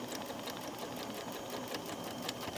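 A sewing machine back stitches along a skirt waistband, running steadily and close at moderate volume for the whole stretch, with no voices.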